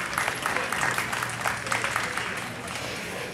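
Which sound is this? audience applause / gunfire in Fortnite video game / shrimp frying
audience applause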